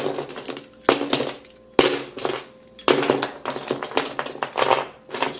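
Back of a jet black iPhone 7 being scratched, with three sharp loud scrapes followed by rough grating strokes, close and alone without talk.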